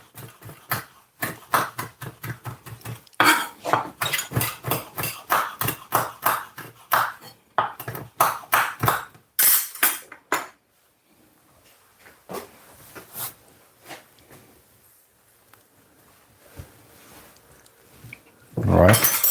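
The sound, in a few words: cutting boneless chicken leg meat with a small knife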